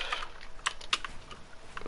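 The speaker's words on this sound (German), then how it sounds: "Guck, ich baue mal jetzt mit Tastatur." Computer keyboard keys being tapped while building in Fortnite, a few quick, sharp clicks spaced irregularly over a quiet background.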